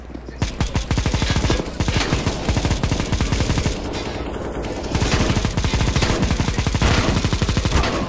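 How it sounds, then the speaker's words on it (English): Rapid automatic gunfire, loud and close, hammering in long continuous bursts with a brief lull midway, one voice speaking faintly underneath. "Damn, this gun sucks nuts."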